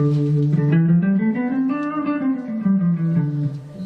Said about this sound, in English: you get this mode called the Dorian mode.